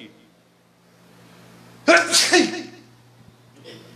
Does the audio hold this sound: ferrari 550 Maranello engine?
no